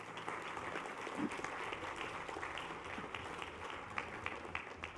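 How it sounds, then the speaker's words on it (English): Steady crowd applause from an audience at the SiGMA iGaming Summit pitch event in Malta, dense continuous clapping throughout at moderate distance. "put your hands together and give them a huge round of applause"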